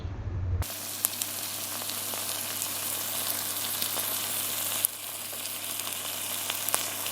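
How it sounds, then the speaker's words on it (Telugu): Tomatoes sizzle and fry in a pan with turmeric, ginger and salt while gongura chicken is being cooked Telangana style, giving a steady, close crackle with a few sharp pops and no talk. "తర్వాత టమాటా వేసుకొని బాగా వేగనీయాలి"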